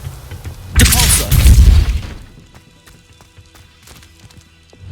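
A Depulso spell in Hogwarts Legacy, cast during the Rookwood Castle mission, goes off as a loud, roaring burst lasting about a second. Faint clicks and small impacts scatter in the quiet that follows.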